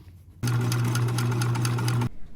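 A sewing machine runs in one steady burst of about a second and a half, stitching shut the opening at the bottom of a fabric tooth fairy doorknob pocket, close and fairly loud with a rapid even hum.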